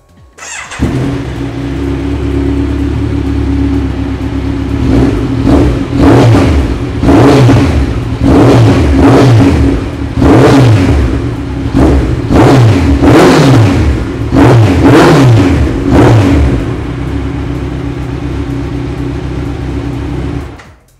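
A Kawasaki Z1000R Edition motorcycle engine starts and idles close by, then is revved repeatedly in sharp rising-and-falling throttle blips over a steady rumbling idle, with no talking.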